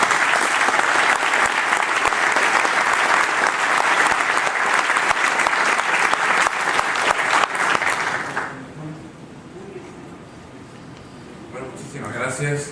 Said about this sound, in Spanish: Lo recibimos con este aplauso